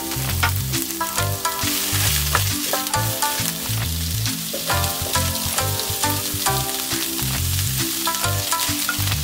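Tofu champuru with cabbage and bean sprouts being stir-fried in a pan: a steady loud sizzle with repeated clattering stirs and scrapes of the spatula, no talk.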